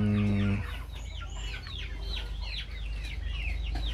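Several free-roaming chickens cluck and squawk in short, overlapping calls, fairly close, with a brief steady tone at the start and a constant low background rumble.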